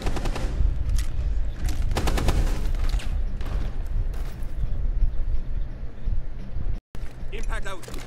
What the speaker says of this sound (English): Nitro cell detonating.